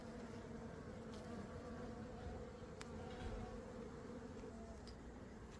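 Carnica honeybees, an Austrian-bred line crossed with Troyzik stock, hum steadily at a hive in a low, continuous drone that holds level throughout without pauses.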